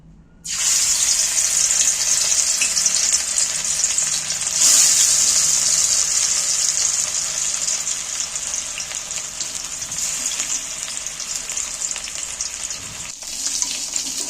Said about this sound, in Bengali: মশলা মাখানো মাছটা একটা একটা করে কড়ার মধ্যে তুলে দিচ্ছি